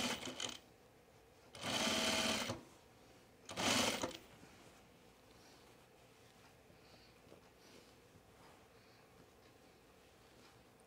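Sewing machine stitching a button-down shirt in two short bursts, one about a second long and a shorter one after it, with a quiet room and no voices in between.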